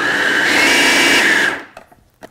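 An electric mixer whirs loudly through peppermint cheesecake filling, a steady close motor hum that winds down after a second and a half, followed by a few light knocks.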